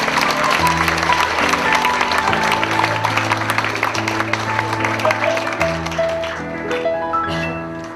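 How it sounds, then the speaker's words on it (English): Wedding guests applaud as the groom's parents are called up to the stage, a loud steady wash of clapping over live band music with a bass line and keyboard chords throughout. "Let's hear a round of applause."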